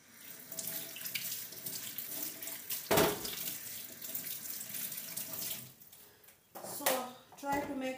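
Tap water runs into a kitchen sink to soak potatoes for Spanish lentil stew, a steady close splashing with brief louder bursts and shifts as the stream hits the basin, with a voice speaking at times.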